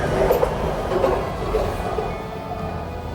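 A Washington Metro yellow line train near Eisenhower Avenue, Alexandria, rumbles along with a steady low roar, faint rhythmic clicks and a thin whine, while a voice murmurs softly over it.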